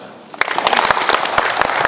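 An audience claps at a Korean maritime award ceremony, the applause swelling quickly into steady, close, crisp clapping.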